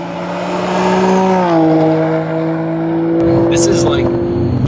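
Nissan R34 Skyline GTR engine while driving, a steady tonal drone that shifts pitch as the revs change, loud and close, with a brief hiss of other noise near the end.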